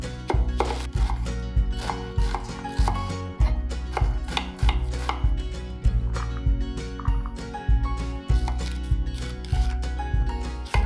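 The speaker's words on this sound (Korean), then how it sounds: "느타리 버섯도 두부 크기로 맞춰 자르고 양파와 대파도 썰어 준비해요." Oyster mushrooms, onion and green onion being chopped with a knife on a cutting board, steady crisp knife thuds in a regular rhythm, close and alone.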